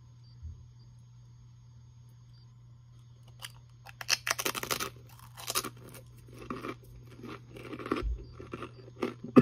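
Crisp, loud crunching bites and chewing of extremely spicy pork rinds start after a quiet moment, continuing in irregular bursts close to the ear.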